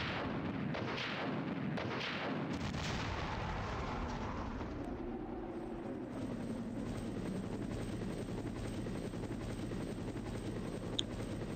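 A rocket launcher fires at the Tyrant boss in the Resident Evil game, with sharp blasts early on giving way to a loud, sustained rumbling roar, like a helicopter or heavy explosion, that fills the rest.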